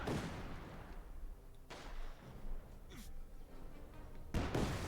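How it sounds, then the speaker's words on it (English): Company of Heroes 2 house being wrecked by a player mid-match: a rumbling collapse with scattered crashing bursts, heavy impacts near the start and a loud final crash, over a constant low battle rumble. "There we go, wrecking the house"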